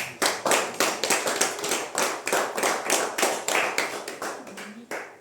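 A church congregation applauding, brisk rhythmic clapping from many hands together, loud and close, running steadily and fading slightly at the end.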